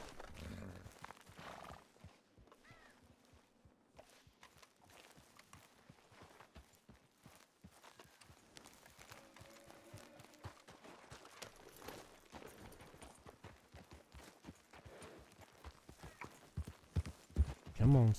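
Hooves of a horse in a video game clip-clop at a walk and then quicken into a galloping rhythm, faint at first and growing louder toward the end, with a neigh and occasional talk.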